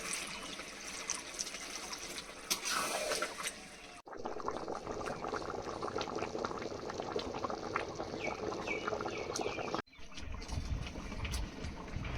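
Water poured into browned chicken curry in a pan gives a steady sizzling, bubbling rush that carries on without a break, with brief cuts partway through and no voices.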